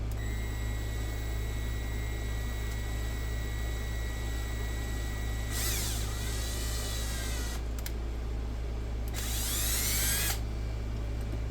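A power drill bores into protection rail material for a Xiegu X6100 portable ham radio in two separate bursts of whining grind, roughly two seconds and one and a half seconds long, over a constant low background hum.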